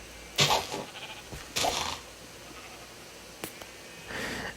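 Sheep bleat in a video game, four separate calls spaced a second or so apart, fairly close and clear, with quiet between them.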